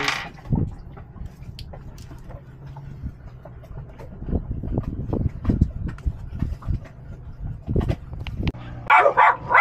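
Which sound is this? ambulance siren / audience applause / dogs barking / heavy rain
dogs barking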